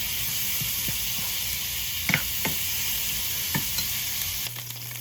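Eggplant frying in a pan until golden brown, a steady close sizzle with occasional scrapes and stirs of the pan, ending in a brief low hum.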